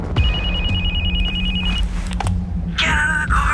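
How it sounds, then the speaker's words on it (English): Cell phone ringing in a tense car scene: a steady electronic ring tone that repeats briefly, then stops, over a low hum and rumble, with a louder burst of noise near the end. "cell phone breaks the silence"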